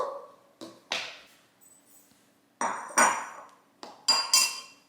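A bowl is handled in a home kitchen while a smoothie bowl is being made. Several sharp ceramic clinks and knocks come in small clusters with quiet gaps between them, close by, with no talking.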